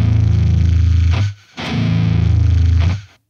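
Heavily distorted electric guitar chugs run through a TDR Nova plugin, two loud palm-muted bursts with a brief gap between, thick and close, no talking.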